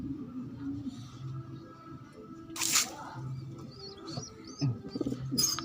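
Pigeons near newly hatched squabs give soft low cooing and murmuring close by, with a few faint chirps and a brief rustle, all fairly quiet.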